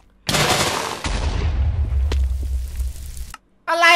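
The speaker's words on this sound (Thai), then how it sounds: "อะไรอ่ะมันระเบิดแล้วอ่ะ" Sudden loud blast from a Minecraft explosion, a sharp crack that rolls into a deep rumbling decay before cutting off, followed by a brief voice at the end.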